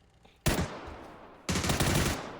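Gunfire in the PUBG video game on the Miramar map: two loud bursts of rapid automatic shots, each sharp onset trailing into a decaying rattle, heard alone without talk.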